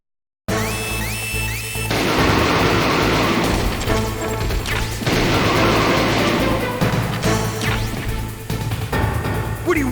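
Shots and impacts ring out in Metal Gear Solid, a series of sharp cracks and crashes layered over game music and effects, loud and close across the span.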